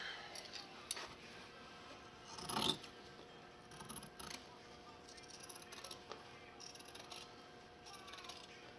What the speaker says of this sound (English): And then we can cut this out.